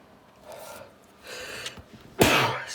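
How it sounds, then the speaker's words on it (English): A single sharp, loud sneeze bursts out near the end, after a few softer breathy intakes that build up to it. "that was a sneeze"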